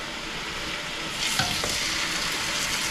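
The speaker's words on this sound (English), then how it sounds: "You hear that bad boy sizzling too?" Wagyu beef frying in a pan of high-smoke-point oil, a soft steady sizzle that swells into a brighter, louder crackle partway through as more meat hits the pan.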